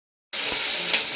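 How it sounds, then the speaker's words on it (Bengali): Fish frying in a wok-style pan at home, giving a steady close hiss and sizzle that starts abruptly and holds evenly, with one brief louder flare near the end. "এই যে বন্ধুরা, মাছ ভাজা আমার চলছে।"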